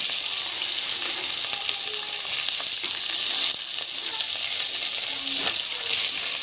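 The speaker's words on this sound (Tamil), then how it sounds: "ஆனியனை போட்டு நல்லா வந்து வதக்கிக்கோங்க" Onions, green chilies and biryani spices sauté in hot oil with a loud, dense, continuous sizzle, close up, with faint scrapes of a stirring spoon.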